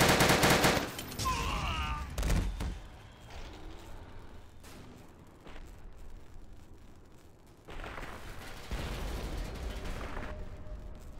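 Gunfire and explosions crackle through a battle in the Empires mod for Half-Life 2, with a loud burst at the start and steady distant shooting afterward.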